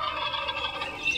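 A turkey gobbles in a continuous, dense electronic rendition, a bright, busy warble running steadily throughout at moderate level with no talking.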